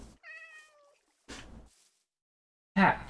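A Minecraft cat gives a clear meow with tonal harmonics, then a second shorter meow after a pause, and a louder, rougher cry at the end, all close and alone in near silence.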